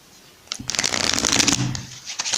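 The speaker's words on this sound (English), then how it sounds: "let's shuffle this deck 3 times" A deck of tarot cards is shuffled up close, a quick crisp riffling burst lasting a couple of seconds.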